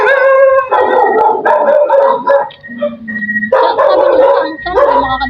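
A large dog barks and howls at night, loud and close, in a continuous run of drawn-out howls broken by yips and barks with a brief lull midway.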